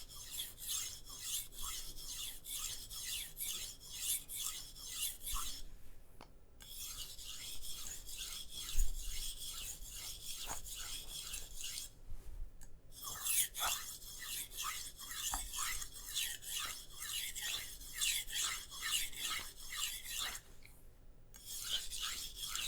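Soft steel knife edge being fine-tuned on a sharpening stone, a steady rhythmic rasping of back-and-forth strokes, close and fairly quiet, with a few brief pauses between passes.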